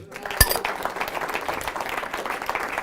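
An audience applauds a cups and balls magic trick, a light patter of clapping that stays soft and steady, with one sharp clink near the start.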